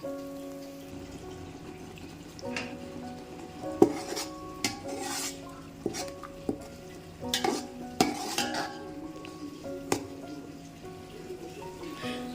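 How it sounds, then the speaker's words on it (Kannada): Green masala paste with onions frying in oil for a mutton biryani, stirred with a utensil that repeatedly scrapes and clinks against the pan over a soft, continuous sizzle. "ಈ ಹಸಿರು ಮಸಾಲದಲ್ಲಿ ಹಸಿ ವಾಸನೆ ಎಲ್ಲ ಹೋಗೋವರೆಗೂ ನಾವು ಇದೇ ಥರ ಸ್ವಲ್ಪ ಹೊತ್ತು ಎಣ್ಣೆನಲ್ಲಿ ಹುರ್ಕೋಬೇಕಾಗತ್ತೆ"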